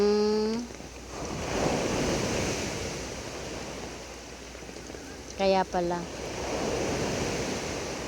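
Ocean waves washing onto the shore in stormy, rainy weather, a continuous broad rushing surge that swells and recedes, with people talking briefly at the start and again midway.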